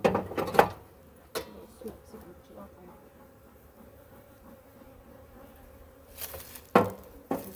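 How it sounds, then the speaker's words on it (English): An agitated honeybee at a beehive, trying to sting and vibrating hard, gives a steady close buzz, with sharp louder bursts near the start and end. "so this one is attempting to sting me and vibrating."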